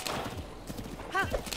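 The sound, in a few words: horses in Zelda Breath of the Wild video game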